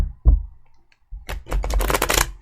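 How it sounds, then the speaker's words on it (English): Tarot cards being shuffled by hand: a brief riffle, a pause, then a longer, dense burst of crisp card flutter close to the mic, with no speech over it. "One more shuffle."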